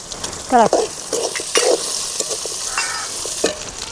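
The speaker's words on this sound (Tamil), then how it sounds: "வெங்காயமும் பச்சை மிளகாயும் நல்லா வணங்க வேணும்." Onions, green chillies and curry leaves fry in a pan with steady broadband sizzling, punctuated by stirring scrapes and a few louder bursts near the start, close and continuous with no talking.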